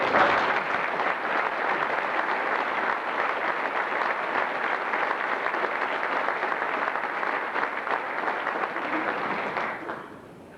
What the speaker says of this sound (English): folks, if you could give them a rousing round of applause.